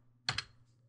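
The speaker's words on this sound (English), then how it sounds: "hit the Windows key on the keyboard" A single Windows key pressed on a computer keyboard, a brief double click of the keystroke, close and fairly quiet in an otherwise still room.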